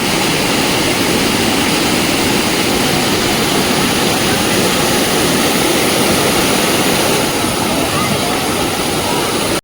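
A waterfall at Bhimashankar roars as a loud, dense, unbroken rush of water heard from close by, steady from start to finish with no pause.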